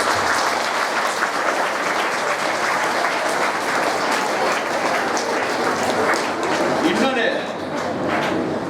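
An audience at a speech by a speaker gives sustained, loud applause of many hands clapping, nearly constant throughout, with a voice heard briefly near the end.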